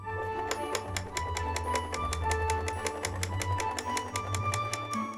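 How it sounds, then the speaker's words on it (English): A sewing machine stitches along the cut edge of a folded fabric triangle, giving rapid, even mechanical clicking with a low motor hum beneath, close and moderately quiet. "fold a triangle in half and sew along the cut edge"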